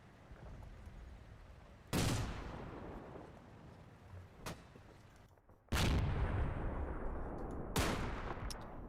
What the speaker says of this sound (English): He's shooting back, I guess.